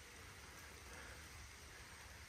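Light rain falls steadily outdoors among Japanese maple trees, a soft continuous patter and hiss that stays even and fairly faint throughout, with no voices.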